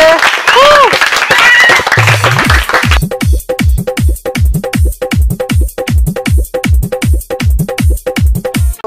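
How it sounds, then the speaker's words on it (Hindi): At a Dahi Handi pot-breaking celebration for Krishna Janmashtami, a loud announcer's voice gives way to steady, rhythmic crowd clapping, strong regular beats continuing for several seconds. "तो एक बार जोरदार तालियों से बॉयज का हम लोग स्वागत करेंगे।"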